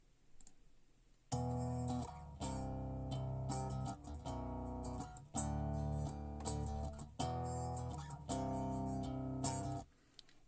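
A mixed bass guitar DI track plays a short riff in sustained, punchy notes with a bright, slightly gritty tone, loud and upfront, grouped in repeating phrases, with no voices.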